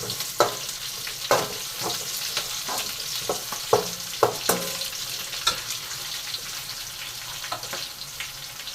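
Sliced onions sizzle steadily in a hot pan while being cooked until lightly browned for an urundai kuzhambu, with repeated sharp scrapes and knocks of a spoon stirring them, close and without talk.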